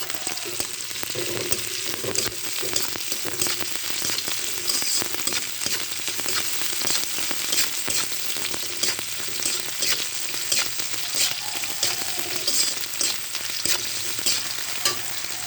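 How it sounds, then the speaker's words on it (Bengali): Sliced onion and garlic fry steadily in a pan with a dense, continuous sizzle and crackle, punctuated by the scrape of stirring, close and alone with no voices. "পেঁয়াজ রসুন ভাজা হয়ে গেছে।"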